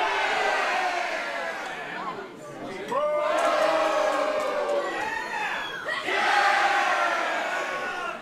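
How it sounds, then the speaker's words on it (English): A live pro wrestling crowd roars in steady waves, with shouts and chants swelling, dipping briefly, then surging loud again throughout. "Crowd firmly behind Haley Dillon"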